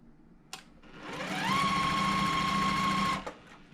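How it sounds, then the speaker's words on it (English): A sewing machine stitches a quarter-inch seam across the top of a folded Dresden quilt blade, motor whirring up to a steady, close hum for about a second and a half before stopping, with a short click before and after. "we're going to stitch a 1/4 inch seam across the top there"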